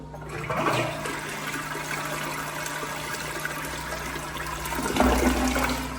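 A toilet flush fills the whole stretch with continuous rushing water, strengthening into a fresh surge toward the end, heard up close and alone.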